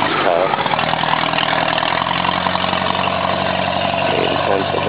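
An old tractor engine runs at a Pennsylvania tractor and steam engine show, a loud, steady mechanical chugging with constant drone throughout.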